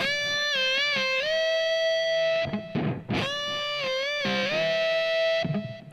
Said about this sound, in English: The cleaner one sounds like this.